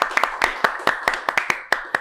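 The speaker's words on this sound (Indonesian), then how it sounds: "tepuk tangan dulu semuanya" Audience clapping at an Indonesian talk show taping, a short burst of about a dozen distinct, fairly close hand claps in an uneven rhythm, with no voices over them.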